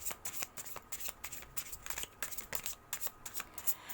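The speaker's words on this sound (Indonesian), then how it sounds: "Oke, kita ambil kartu lagi, fokus ya." Tarot cards being shuffled and drawn by hand, a steady run of crisp riffling flicks and soft slaps, close and fairly quiet with no talking.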